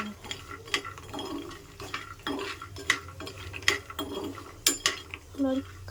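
Pistachios and mixed dry fruits frying in a pan, a quiet crackle under repeated sharp clinks and scrapes of a spatula stirring against the metal, with faint background voices.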